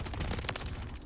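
An AMR9 submachine gun fitted with the JAK Atlas five-round burst kit fires in Call of Duty: Modern Warfare III. Dense, loud, rapid shots crackle together across the short moment with no pause.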